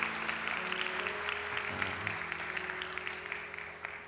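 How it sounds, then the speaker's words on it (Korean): A church congregation gives the choir team sustained applause, dense and steady clapping from a large indoor crowd over a faint tonal hum. "다시 한번 우리 콰이어 팀에게 박수를"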